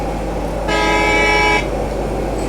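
A bus horn in a video game blares in one steady, sustained honk lasting about a second over a low engine rumble, with no voices.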